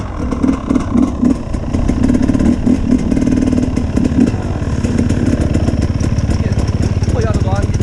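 A motorcycle engine idles in snowy, slippery conditions, a continuous close throbbing rumble that stays loud and even throughout.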